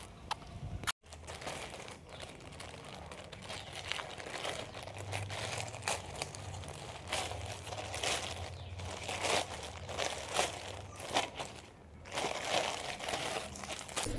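A delivered parcel holding a sweater is torn open and unwrapped, giving steady close crinkling and crumpling of plastic packaging with brief tearing bursts throughout, loud and continuous apart from a short pause near the start.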